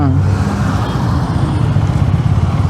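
A KTM Duke 390 motorcycle rides slowly at a steady pace during a fuel mileage test, its engine a constant low drone with road and wind noise while the rider talks.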